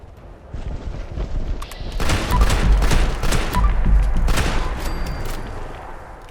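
Dense gunfire from the Fallout 76 video game rings out as a loud, overlapping volley of rapid shots with booming low-end impacts that swell in the middle, with no talking.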